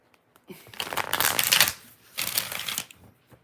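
Two bursts of tarot cards being riffled and shuffled close by, a longer one followed by a shorter one, in an otherwise quiet room.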